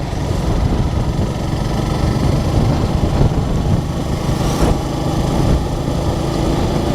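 A Suzuki Gixxer SF motorcycle with ABS, about a year old, runs on a test ride with a steady engine drone and road and wind noise, loud and close, holding an even level throughout without talk.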